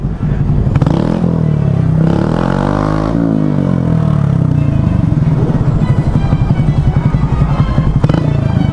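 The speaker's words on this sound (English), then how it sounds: "It's just a crazy German on a motorcycle." A small Honda Grom motorcycle rides along a rough road, its engine loud and close with revving swells and clattering, scraping road noise throughout.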